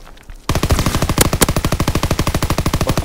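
Loud, close automatic weapon fire in Call of Duty: WWII, a fast steady stream of shots that starts abruptly and runs unbroken to the end.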